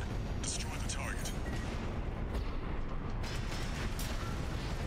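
Heavy weapons fire and rumbling destruction of a pressure chamber in Armored Core VI, a loud continuous roar of blasts and mechanical crashes with a voice speaking over it.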